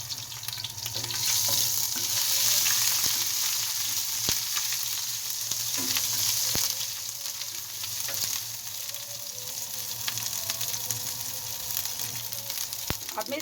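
Cumin seeds and ginger sizzle hard in hot oil in a frying pan, a loud continuous crackle that eases slightly partway through, with occasional clinks of a spoon stirring.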